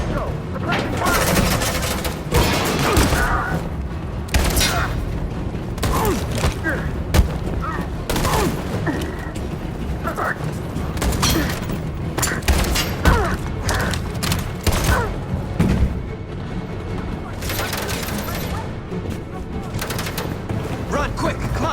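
Sustained bursts of gunfire and loud booms from a firefight in the video game Detroit Become Human, with dense repeated shots over a noisy battle din and voices shouting orders throughout.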